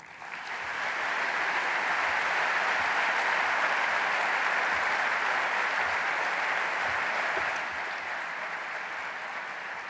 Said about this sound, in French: je vous propose maintenant d'accueillir, sous vos applaudissements, son Altesse royale, le prince héritier Frédéric de Danemark